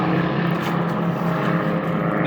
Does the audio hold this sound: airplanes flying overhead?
yes